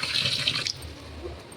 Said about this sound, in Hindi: ये आलू है, इसको मैं धुल लूँ